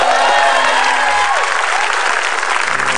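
Studio audience at an Indonesian television game show breaking into loud, dense applause that carries on without pause for a few seconds, with faint cheering mixed in.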